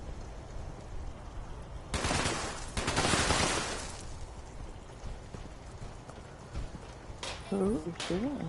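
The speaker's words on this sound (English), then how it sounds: "Who is shooting and who are they shooting at?" Rapid bursts of gunfire rattle in the video game Fallout 76, a loud volley around the middle with scattered shots after, alongside hoofbeat-like clatter and some voice sounds.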